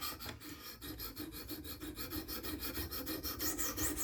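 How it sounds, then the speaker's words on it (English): Steel blade drawn repeatedly across a 300 grit sharpening stone under light pressure, a steady run of close, raspy scraping strokes in a quick even rhythm with no voices. "Got the 300 grit stone in, light pressure."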